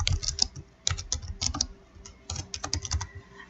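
Keys clatter on a computer keyboard as a custom palette name is typed into Silhouette Studio design software, a quick irregular run of close, crisp clicks with brief pauses between bursts.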